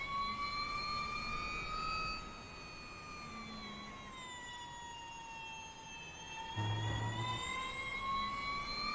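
A race car engine in a racing video game at VIR drones steadily, its pitch sweeping gently up and down, with faint tire noise and a brief low thump near the end.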